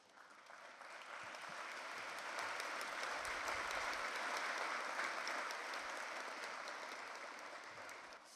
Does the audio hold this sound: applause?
yes